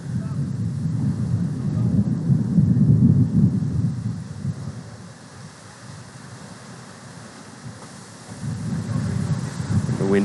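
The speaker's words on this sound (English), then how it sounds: "Some more gusts of wind hitting Hideaway Field." Wind gusts buffet the microphone at Hideaway Field during a baseball game in worsening weather, a deep rumbling roar that swells, eases off, then surges back again.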